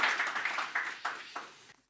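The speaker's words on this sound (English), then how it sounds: "I'd like you all to give a round of applause to our panelists." An audience applauds panelists at a Wi-Fi policy event in Europe, a brief burst of clapping with a few distinct sharper claps, fading out quickly.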